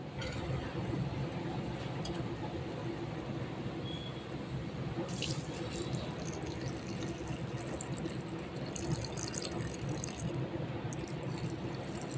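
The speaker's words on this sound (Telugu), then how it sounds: "ఇప్పుడు వచ్చేసి నేను వాటర్ పోస్తున్నా." Water pouring steadily into a pan, a continuous splashing stream heard up close for several seconds.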